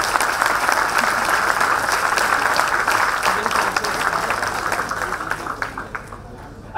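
A lecture audience applauds a rocket launch, full steady clapping from a hall of listeners that gradually thins toward the end, with a voice speaking briefly over it.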